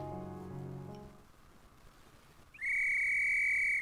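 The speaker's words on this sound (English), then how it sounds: "Suddenly, the sound of a whistle echoes throughout the room." A whistle blown in a room gives one loud, shrill, sustained blast lasting over a second, sounding alone after a quieter stretch of low croaking tones at the start.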